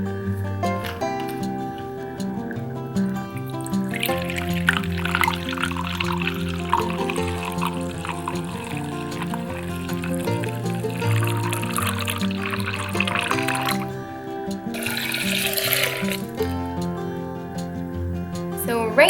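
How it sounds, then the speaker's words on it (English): Rose water poured into a measuring cup produces a continuous liquid pouring and filling sound, rising slightly as the cup fills, set under background music. "Then we'll take the rose water and we'll add 200 mils into"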